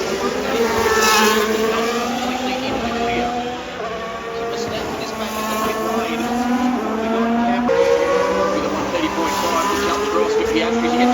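Formula 1 cars lapping during Singapore Grand Prix qualifying, their high engine whines rising and falling as several cars pass in succession, loud and continuous under a commentator's voice.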